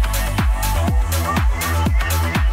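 An electronic Reese bass line from a track, a thick detuned synth bass pulsing in a steady rhythmic pattern with bright transient hits over it, loud and continuous.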